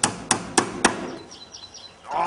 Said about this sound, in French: Passe le marteau.